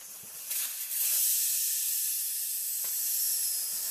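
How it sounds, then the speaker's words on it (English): Air hissing steadily out of a tire's open valve stem after the valve core is removed, a loud close continuous rush of air with a few faint clicks. "Make sure to let all your air out."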